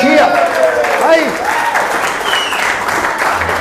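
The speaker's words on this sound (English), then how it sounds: "Everyone give them a cheer." A live show audience breaking into loud applause and cheering, dense clapping with whoops, close and continuous, while a voice speaks over the crowd.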